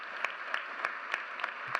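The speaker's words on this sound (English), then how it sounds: "okay, we can clap for that" An audience applauds at a college commencement ceremony, a faint, steady wash of clapping with a few sharper claps standing out at a regular pace.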